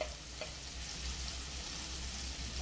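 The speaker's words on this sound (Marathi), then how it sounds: "थोडंसं तेलामध्ये परतून घ्यायचं." Ginger, garlic, coconut, coriander and cumin powder fry in a little oil, giving a steady close sizzle with faint stirring scrapes throughout and no voices.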